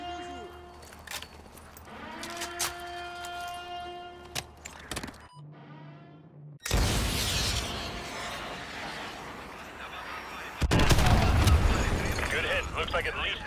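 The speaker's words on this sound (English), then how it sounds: "AGM missile is online" Heavy blasts from an AGM missile strike in Call of Duty: Modern Warfare 2, two loud booming bursts arriving partway through after tonal electronic game sounds and radio chatter, with a sustained rumbling roar between and after the impacts.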